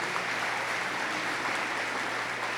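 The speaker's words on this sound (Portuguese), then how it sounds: "Você pode acolher a palavra aplaudindo" Church congregation applauding right after the Gospel reading, a steady dense wash of clapping from many hands, held at even loudness throughout with no voices standing out.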